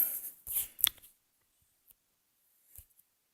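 Playing cards are flipped over by hand in a card trick, making a few quick, crisp papery snaps close by, followed by faint ticks and one more soft flick, with no talk.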